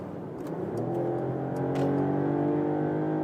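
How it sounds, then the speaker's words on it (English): A six-cylinder Mercedes E-Class pulls hard on a motorway from 100 to 130 km/h, its engine note rising in steady harmonic tones under constant road and wind rumble, loud and close from inside the cabin. "One more quick acceleration from 100 to 130"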